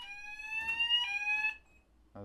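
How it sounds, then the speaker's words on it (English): A building fire alarm, set off by a fault in an unoccupied room, sounds a steady electronic tone held for about a second and a half, with a brief break partway, then cuts out before another short buzz starts. "Eventually, a fault is traced to an unoccupied room and the alarm can be silenced."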